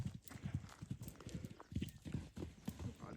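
Horses walking on a farm, hooves clip-clopping in a quick irregular rhythm, close and fairly faint, with a brief snort or whinny mixed in and no talk.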